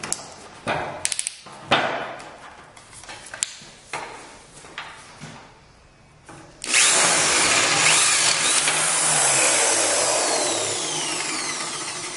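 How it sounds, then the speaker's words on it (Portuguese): A Makita HP1631 drill boring with a 12 mm bit starts with scattered taps and handling clatter, then runs loud and steady for the last five or so seconds, nearby and with no talk. "Essa broca aqui tem 12 milímetros de diâmetro."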